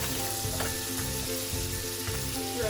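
A breaded veal cutlet fries in melting butter with rosemary, giving a loud, dense, continuous sizzle close up with faint rhythmic tapping underneath.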